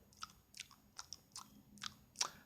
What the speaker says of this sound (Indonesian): Ketika kamu makan makanan, kamu mengeluarkan suara makan, yaitu mengecap